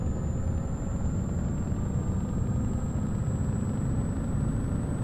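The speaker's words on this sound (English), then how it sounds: "You just gotta love the V8 engine here, Scanias." A Scania truck's V8 engine in Euro Truck Simulator 2 drones steadily at cruising speed, a deep, continuous low rumble with a faint constant whine above it, no talk.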